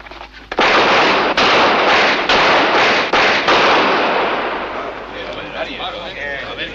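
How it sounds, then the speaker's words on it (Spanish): Several sharp gunshots crack in quick succession, loud and close, followed by a fading echo and faint voices afterward. "Muy buenos disparos, sheriff."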